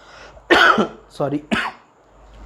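Three short throaty coughs in quick succession, close and fairly loud, with brief quiet gaps between them.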